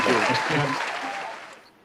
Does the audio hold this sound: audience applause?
yes